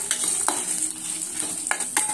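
Fennel seeds and chana dal dry-roasting in a kadai over medium heat, with a light crackle under several sharp scraping stirs spaced about half a second apart.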